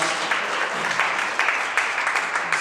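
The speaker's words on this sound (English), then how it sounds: "Tip of the cap to the Community Foundation of Central Illinois. Round of applause." An audience at a film festival opening night applauds a sponsor, a dense burst of close, sustained clapping with scattered sharper claps throughout.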